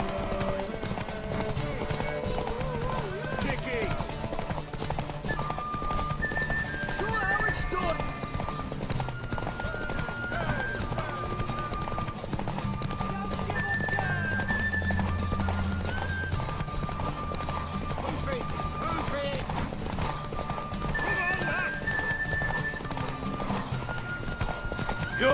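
Hoofbeats clip-clop steadily through a Witcher 3 game scene while a horse neighs now and then, all mixed under game voices and a continuous background score.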